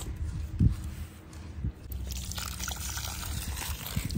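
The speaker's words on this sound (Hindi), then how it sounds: "यहाँ पे पानी मैंने छोड़ दिया क्योंकि अभी बहुत ज़्यादा गर्म पानी" Hot water runs and trickles from a tap or pipe at a village mud house, a soft steady gush with a few splashy bumps, close and fairly quiet, no talk.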